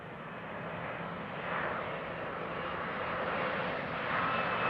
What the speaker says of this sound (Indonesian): Yuhu, keluarlah pesawat terbang.